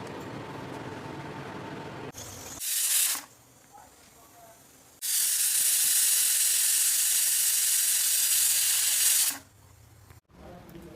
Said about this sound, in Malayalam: 2 വിസിലടിച്ചാൽ നമ്മളിത് കുക്കർ ഓഫാക്കി വെക്കുക